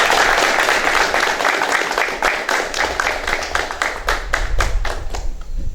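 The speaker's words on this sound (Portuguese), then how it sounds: "a qual nós conclamamos que todos saúdem com uma salva de palmas" Audience applause at a municipal culture council election assembly in Canto do Buriti, Piauí: steady loud clapping from a roomful of people, thinning toward the end into a few separate claps and thumps, with no speech over it.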